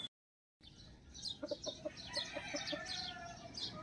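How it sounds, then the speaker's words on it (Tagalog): Chickens in a small backyard coop in Cavite cluck in quick, uneven bursts after a brief silence, with a faint crow and bird chirps mixed into a steady outdoor background. "wag na natin patagalin ang ingay ng mga manok."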